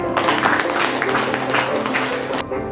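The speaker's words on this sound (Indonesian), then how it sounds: "beri tepuk tangan dong" Students in a classroom break into brief applause, a dense burst of clapping that starts abruptly, holds for about two seconds and then stops sharply, with no talking over it.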